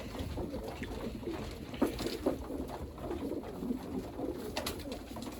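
Breeding pigeons coo softly in a loft, with low murmuring calls blending into a steady background rustle and a few sharper bird notes standing out now and then.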